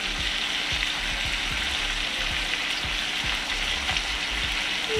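Honey garlic salmon fillets sizzle and fry in a hot pan, a steady loud crackling hiss with small stirring or shifting bumps, no voices over it.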